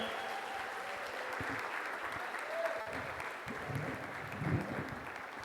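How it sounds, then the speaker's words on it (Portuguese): Applause from a church congregation at an evening worship service in Jaraguá do Sul, a quiet, distant wash of clapping that continues steadily, with faint voices underneath. "Pode aplaudir Jesus pela vida dela"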